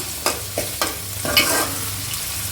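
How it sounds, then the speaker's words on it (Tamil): Coriander and spices sautéing in oil for a Tamil-style fish kuzhambu, with a low steady sizzle under a few distinct scraping stir strokes spaced about half a second apart, close and alone with no talk. "இது எல்லாமே நல்லா வதங்கட்டும்"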